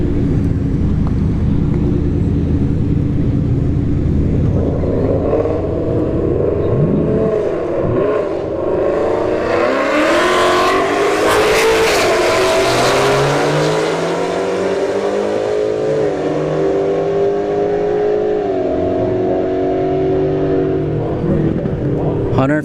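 A VW Golf GTI and a Ford Mustang S550 with a drag pack launch side by side at a drag strip test-and-tune session. Loud engines roar and climb steadily in pitch through the gears, with a sharp whine building midway.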